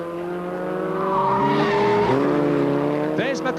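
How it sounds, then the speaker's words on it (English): Formula Ford 2000 race cars in the 1983 Brands Hatch winter series, engines howling up and down in pitch as they brake into a corner, with tyre squeal near the end under a commentator's voice. "And Wallace and Reed go into Paddock Bend absolutely together"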